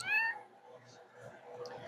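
A short, high cat meow at the start, then a faint background murmur of low voices and room noise.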